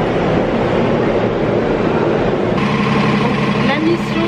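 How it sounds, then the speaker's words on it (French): A metro train ride, with a steady, loud rumble and rattle of the carriage rolling along the track throughout and voices murmuring underneath. "On va prendre le métro et on se retrouve là-bas."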